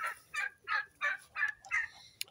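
Three ducks give a run of about six evenly spaced, loud nasal calls at close range, each burst short and repeated in a quick, regular rhythm.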